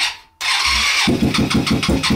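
A mini sport motorcycle engine cranks and catches abruptly, then settles into a loud, close, pulsing idle with no voices.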